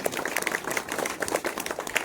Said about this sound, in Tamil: எல்லாருக்குமே பொதுவா ஒருபட கைத்தட்டி உற்சாகப்படுத்திக் கொள்வோம்